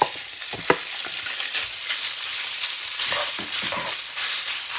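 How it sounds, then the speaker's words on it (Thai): Steady oil sizzle in a hot pan as pork is stir-fried, with occasional scraping clicks of a utensil stirring the meat, close by and continuous. "เดี๋ยวเราก็จะมาผัดหมูก่อนนะคะ ผัดหมูให้สุกก่อนนะคะ"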